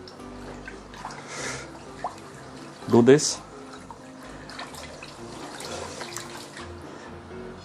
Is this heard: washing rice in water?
yes